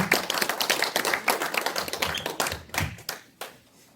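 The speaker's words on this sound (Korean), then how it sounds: "여러분 환영의 박수 보내주시기 바랍니다" An audience claps in welcome as a lecturer is brought up at a knowledge forum. The applause is a loud, dense patter of many hands that thins into scattered claps and fades out near the end.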